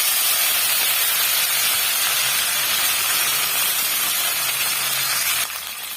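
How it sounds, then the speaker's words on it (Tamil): Fresh curry leaves spluttering in hot oil while frying for a garlic chutney, a loud, steady, close sizzling hiss that drops slightly near the end, with no talking. "பாருங்க பொறிஞ்சு வருது"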